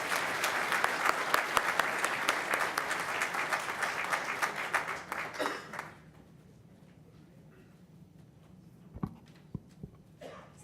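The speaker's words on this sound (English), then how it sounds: "Please give them a round of applause." An audience at a city employee service award ceremony gives a round of applause for the honorees. The loud, dense clapping lasts about six seconds, then stops abruptly, and a few isolated thumps and small noises follow in the quiet room.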